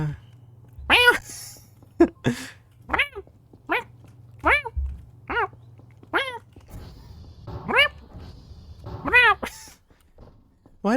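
A person repeatedly imitates a cat's meow, about a dozen drawn-out calls spaced irregularly over a low steady hum.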